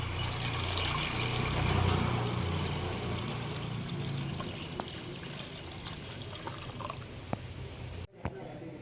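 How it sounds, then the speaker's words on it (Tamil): Water pours into a clay pot set out for ragi porridge, a steady splashing stream that gradually thins to a light trickle, ending with a couple of small knocks. "மண் சட்டி வச்சுட்டு நம்ம தண்ணி ஊற்றிப்போம்"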